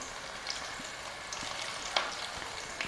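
Onions fry in a pan until lightly pink, not deeply golden, giving a steady soft sizzle with occasional faint clinks and stirring sounds, close and even with no talking.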